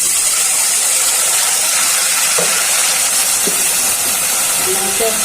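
Onion fries in a pan with a loud, steady sizzle and hiss, close up, broken by a few soft scrapes of stirring.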